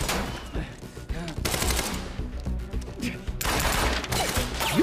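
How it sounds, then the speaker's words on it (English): Gunfire in the Quantum Break video game rattles out in rapid bursts, loud and close, with brief pauses between volleys over busy game sounds and some voices. "Shoot him! Shoot the harness."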